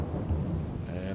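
Steady video game rain hisses with a low rumbling roar, dense and continuous, with a faint voice underneath.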